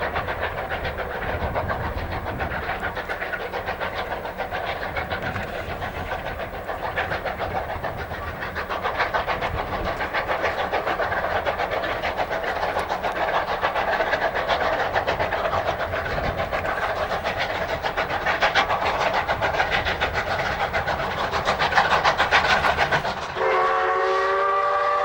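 Pacific steam locomotive 621 double-headed with K-Class 183 climbing the Ingliston Bank in Victoria, a loud sustained rumble of laboring engines and rolling wagons, ending with a sharp whistle blast near the close.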